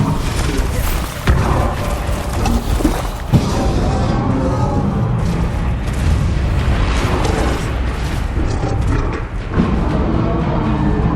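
Fire and blast spells, Confringo and Bombarda, detonating in Hogwarts Legacy played in VR: a dense, loud run of booming explosions and roaring crackle, with sharp bursts near 1 and 3 seconds over continuous rumbling.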